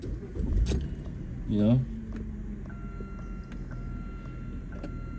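A car engine starting with a short rising whir after a jangle of keys, followed by a steady electronic chime tone in the cabin; a voice speaks briefly.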